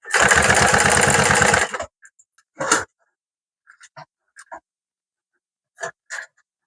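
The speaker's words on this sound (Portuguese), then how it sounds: "Cuidado também na hora de costurar essa parte de baixo" Sewing machine stitching bag material, running loud and steady for about two seconds at close range, then stopping, followed by scattered small handling clicks and fabric touches.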